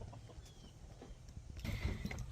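Two broody hens settled in a nest box give low, soft clucks and murmurs, faint and close, swelling a little louder toward the end.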